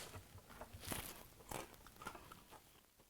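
Someone bites and crunches crisps in a few sharp, close bursts over quiet background, with no talking.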